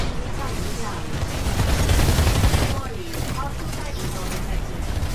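Rapid, dense minigun fire in the video game Titanfall 2, a loud sustained roar of bursts with swelling intensity, under an excited voice calling out game events.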